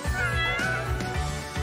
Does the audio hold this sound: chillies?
no